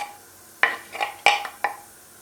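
Chopped onions tumble into a metal pot with a few clattering bursts, sharp scrapes and clinks of a utensil against the pan, close and fairly loud.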